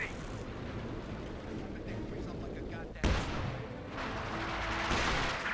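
Mortar fire in Company of Heroes 2, a single sharp boom about midway through a busy battle mix of gunfire and rumbling, with a commentator talking over it.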